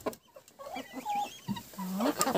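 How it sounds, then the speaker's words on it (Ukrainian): Young rooster and hens in a farmyard in the evening, giving a few short clucks and calls close by, one longer call near the end. "Це півень молодий."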